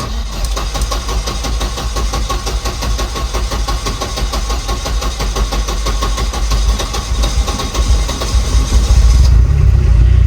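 A turbocharged Volvo 245 engine runs right after starting, a loud, close, rough idle with a rapid pulsing beat and a deep rumble that swells slightly near the end, with no talk over it.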